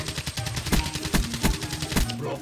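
Gunfire in Black Ops 3, with rapid bursts of shots in a steady rhythm of close, punchy cracks over game background noise.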